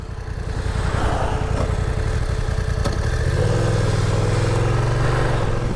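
A motorcycle travels along a road with a steady, loud engine drone throughout. The pitch of the engine rises partway through as the bike accelerates, with wind noise mixed in.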